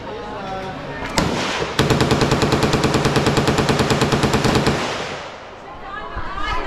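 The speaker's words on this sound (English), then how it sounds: "There's also some really big ass machine gun over here that I think somebody's just about to go on." A large machine gun fires at the Cu Chi tunnels shooting range in Vietnam, first a single shot, then a long, fast, loud burst of rhythmic reports with echo, cutting off into a reverberant tail with faint background noise.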